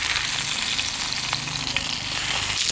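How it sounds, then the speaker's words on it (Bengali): Rupchad fish frying in a pan gives a loud, dense, continuous sizzle close up, with a faint brief clatter as the fish is turned near the end. "তো মাছটা এখন আমি একটু সামান্য উল্টিয়ে দেবো।"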